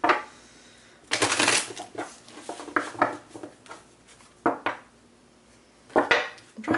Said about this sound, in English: just a few more shuffles here